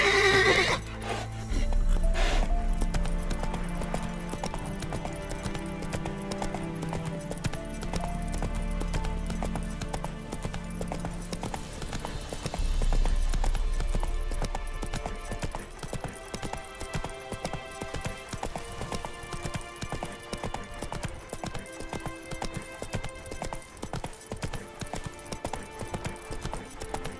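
Roach the horse in The Witcher 3 lets out a loud whinny at the start, followed by clip-clopping hooves and galloping that carry on throughout, with in-game music and sounds layered underneath.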